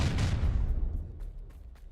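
Confringo blasting spell exploding in the video game Hogwarts Legacy: a single loud, deep boom with a rumbling tail that fades over about two seconds, with faint crackles afterward.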